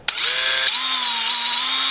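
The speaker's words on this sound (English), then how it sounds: "Try and center it in the drill as much as possible, and then if you get it going, get it started in the hole" A power drill spins a metal pin into a hole during a Ghostbusters puzzle build: a loud, steady motor whine that starts abruptly and drops slightly in pitch partway through, heard alone with no talk.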